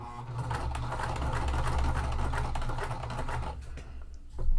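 A sewing machine stitches plastic for a wallet, a loud, close, continuous rapid whir with a dense mechanical rattle that slows and drops off near the end before a final bump.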